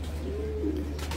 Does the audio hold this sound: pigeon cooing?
yes